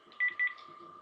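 Two short, sharp keypad tones sound in quick succession as a phone number is punched in, over a steady hum and faint background noise.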